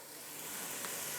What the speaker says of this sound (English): You wanna hear a good sizzle